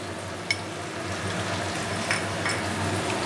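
Garlic and ginger paste sizzles steadily in a hot pan for a crab curry, a close, continuous frying hiss broken by a couple of light spoon clinks as it is stirred.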